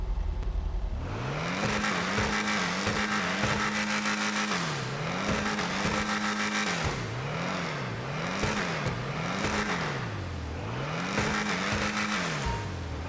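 Karin Previon car engine from the game GTA Online revs repeatedly up and down in quick cycles, loud and close, with a racing engine tone and no talk.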